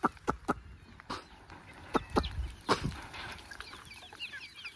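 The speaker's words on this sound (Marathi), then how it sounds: "गावच्या कोंबड्या सगळ्या त्याचा बघू आवाज येतो" Several village chickens on a poultry farm cluck and squawk in short, irregular bursts close by, with quieter chirps and clucks continuing in the background.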